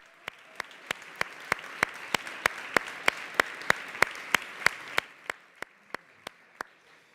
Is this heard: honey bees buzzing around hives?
no